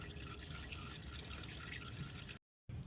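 Transmission fluid draining from a 2021 Hyundai Palisade, a steady close trickle and drip of liquid running continuously, broken by a brief silent gap near the end before the flow resumes.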